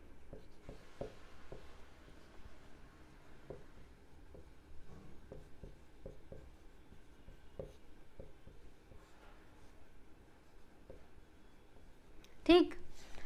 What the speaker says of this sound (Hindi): सोचिए, तब तक मैं इधर क्वेश्चन लिखती हूँ।